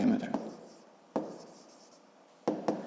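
Chalk or marker scratches across a board during a fifth-grade math lesson, coming in short separate bursts of strokes with quiet gaps between them, close and fairly soft.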